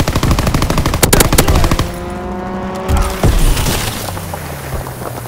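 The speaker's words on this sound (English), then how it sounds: "Enemy strafing run inbound." Rapid machine-gun bursts from an enemy aircraft strafing run in the World War II shooter Call of Duty WWII, loud and close, with sharp booms and a lingering engine drone between volleys.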